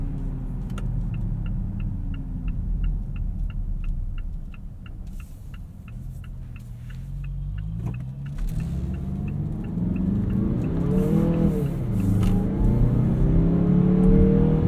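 A 2018 Mazda CX-9 Signature accelerating up an entrance ramp at night, heard from inside the cabin as a low engine rumble that rises in pitch, with the steady tick of a turn signal running through the first half.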